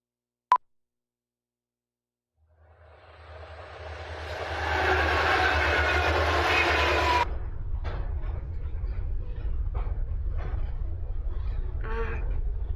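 A train in a cartoon animatic: after a sharp click and a pause, a rumbling rail sound swells up, then a steady clattering ride with rhythmic clicks continues to the end.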